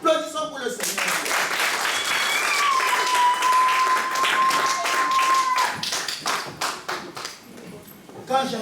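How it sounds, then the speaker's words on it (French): A church congregation at a French-language sermon on prayer claps together in a steady rhythm, loud and sustained. A held musical tone rises over the clapping midway before it thins out into scattered claps. "Applaudissons pour le Seigneur."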